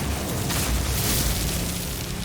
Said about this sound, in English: Like these explosions are really, really loud.